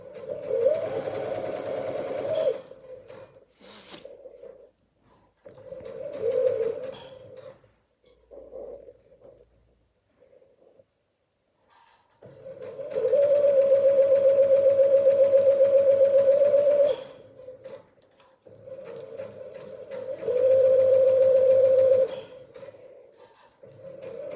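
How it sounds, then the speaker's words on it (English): A sewing machine stitches a straight kimono seam in several bursts of steady rapid whirring, two long runs and a few shorter ones, separated by pauses and small handling clicks, close and clear with no talking. "you're just keeping your eye on that line, that your needle's going nicely into your seam line"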